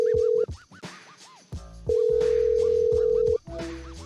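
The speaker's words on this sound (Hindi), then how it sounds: "let's call Manoj" A telephone dial tone plays during a late-night radio call-in show while the line to a caller is connecting. The steady, loud tone breaks off twice, with other tonal phone and music sounds filling the gaps.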